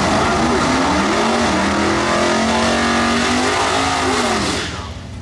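A Ford Lightning pickup races down a quarter-mile drag strip at a Ford event, a loud, close engine roar climbing in pitch through the gears before fading near the end.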